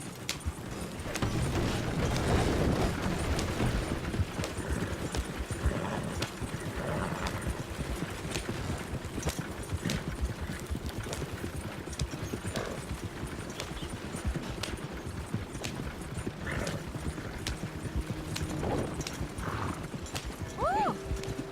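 Horse hooves clip-clopping in a steady galloping rhythm in the video game Red Dead Redemption 2, continuous and up close, with a brief whinny and voices briefly over it.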